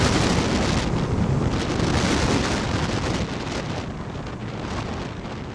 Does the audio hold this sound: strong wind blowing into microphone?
yes